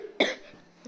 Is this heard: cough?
yes